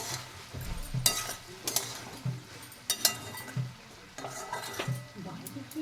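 Spoon scraping and clinking against a pan as Malabar spinach (pui) curry is stirred, with a few sharp metallic knocks at irregular intervals over a soft sizzle, close and moderately loud.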